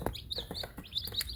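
Several small, high-pitched peeps repeat quickly and irregularly, close by and fairly soft, like baby chicks chirping.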